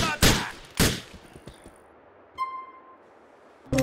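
Gunfire in Grand Theft Auto IV: a few sharp, loud shots in quick succession near the start, followed by a brief ringing tone and another burst at the end.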